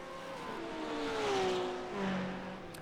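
Ferrari GT3 race cars running side by side in a racing game, with a steady engine drone and gear-shift pitch changes as they pass close by, no one talking.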